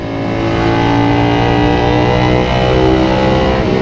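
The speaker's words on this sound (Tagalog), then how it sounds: "Hindi na siya 450cc na basta-basta ganun lang yung tunog." A 450SR/SS motorcycle fitted with a full-system exhaust revs loudly and close, a dense harmonic engine roar holding steady with slight pitch shifts across the short burst.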